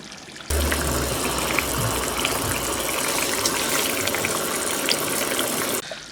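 About half a cup of water poured into cooking dal, a steady close gushing and bubbling rush lasting several seconds before cutting off.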